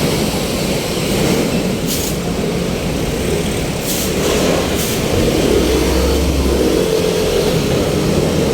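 An LRT train rumbles overhead on an elevated track above Taft Avenue in Manila, a loud continuous roar heavy in the low end blending with street traffic noise below, heard from beneath the line.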